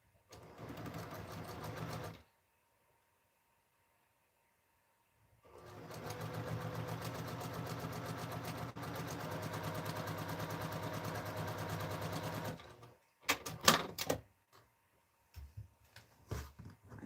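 A sewing machine stitches fabric scrap strips together for a quilt in two steady runs of rapid, even mechanical whirring, separated by a pause and followed by a few short, uneven stitching bursts.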